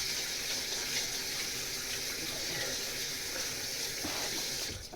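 Tap water runs steadily into a sink while someone washes their hands, a continuous close hiss and splash that hardly changes from start to end.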